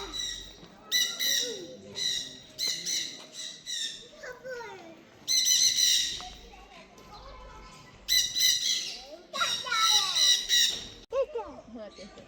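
Many birds squawk and call at a zoo in Sikkim, with pheasants, rabbits, an ostrich and ducks nearby; harsh calls burst out repeatedly and close by, overlapping one another, while people talk in between.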